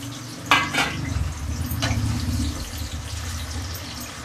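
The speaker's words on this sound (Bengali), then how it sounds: "একটু আস্তে দিয়ে ভাজতে হবে, একটু মিডিয়াম ফ্লেমে ভাজতে হবে।" Whole potatoes frying in oil on a medium flame for chicken biryani give a close, bubbling sizzle, opened by a sharp clatter and a few stirring scrapes, with no voices.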